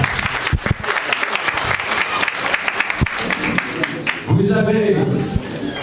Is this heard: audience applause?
yes